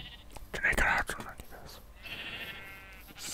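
A Minecraft sheep bleats near a sheep pen in the game, a wavering cry rising after game sounds, with a person talking softly around it.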